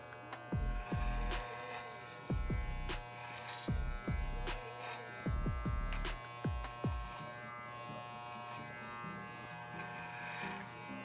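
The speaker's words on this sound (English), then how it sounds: "I'm gonna use the comb and run the clipper through it" Electric hair clipper buzzing steadily through a men's haircut, passed over a comb in repeated short strokes with bursts of snipping and combing; close, fairly quiet, no talking.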